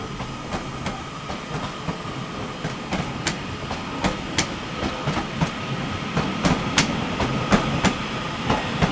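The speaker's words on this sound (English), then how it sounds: "departing now is going to be the 12:38 northern service to Alderley Edge" A Northern train departs Manchester Piccadilly for Alderley Edge, its wheels clicking rhythmically over rail joints at a steady pace, moderately close, with a continuous rumble underneath.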